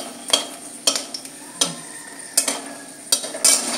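A spatula stirs hot oil with a broken dried chilli in a frying pan, producing a series of distinct scraping knocks against the pan every half second or so over a soft background sizzle.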